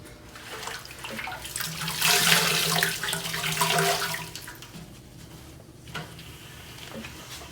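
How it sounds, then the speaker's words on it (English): Tap water runs steadily into a sink during cleanup after making olive oil castile soap, a close, continuous splashing rush that swells and eases over several seconds with no talking. "Bonus feature, Joanna cleaning"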